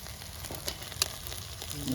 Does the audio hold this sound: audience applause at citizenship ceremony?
no